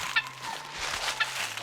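Chickens clucking, a couple of short sharp calls spaced about a second apart over a low steady background hum, moderately close.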